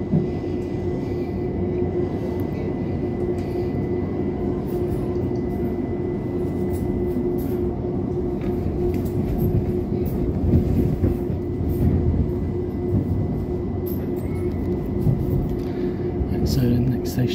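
A train runs steadily along a London rail line toward Clapham Junction, a continuous loud rumble and rail roar heard from on board, with faint clatter and voices mixed into the background throughout.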